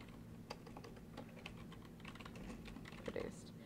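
Quiet typing on a computer keyboard while entering label text for wine bottles, a run of soft, irregular key clicks over a low background hum.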